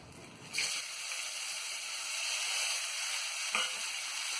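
Dried shrimp frying in hot oil, a steady close sizzle and hiss that holds throughout, with a brief sharper burst near the start and another soft flare later.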